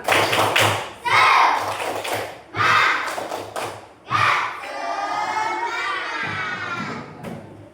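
Schoolchildren in a classroom clap together in rhythmic bursts, with shouts and voices between claps, ending in a long excited group cheer nearby.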